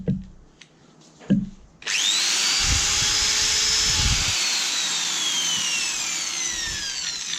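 A Metabo BE628 power drill starts after two sharp knocks and runs in a loud, steady whine up close, its pitch drifting slightly as it keeps spinning for several seconds.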